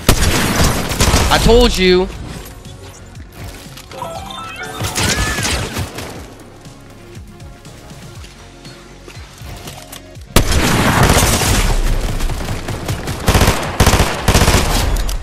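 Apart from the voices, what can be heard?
gunshots in a video game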